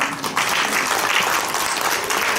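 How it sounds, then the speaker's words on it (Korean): An audience claps steadily, a dense wash of applause from many hands throughout. "격려의 박수 한번 부탁드립니다."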